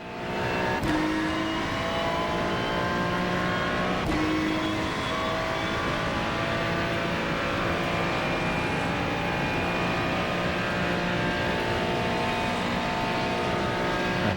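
Race cars in a racing video game circle a track on the final lap, a dense continuous engine whine with layered tonal harmonics and occasional brief shifts, loud and steady with no talking.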